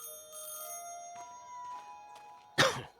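A telephone ringing in the video game Highly Likely: a clear, sustained electronic bell tone that rings twice, then a short sharp noise burst near the end.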